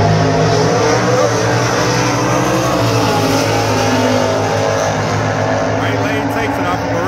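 NHRA Super Comp drag race cars at Lucas Oil Raceway in Indianapolis, a steady loud engine roar holding throughout with announcer-style talk over it.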